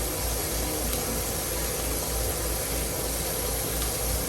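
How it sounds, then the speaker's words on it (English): Green onions sizzle steadily in a ghee-buttered pan alongside steak, a dense, loud, continuous hiss that holds evenly throughout with no pauses or talking. "So now we're going to put these green onions in here"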